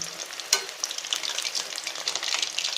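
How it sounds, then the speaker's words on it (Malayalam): Chicken pakora deep frying in hot oil, a dense bubbling sizzle with crackling pops and one sharp clink near the start, close and fairly loud, no voices. "ഒരു വശം നന്നായിട്ട് പൊരിയുമ്പോൾ തിരിച്ച് മറിച്ച് വിട്ട് നല്ല ഗോൾഡൻ ബ്രൗൺ ആയിട്ട് നമുക്കിത് പൊരിച്ചെടുക്കാം"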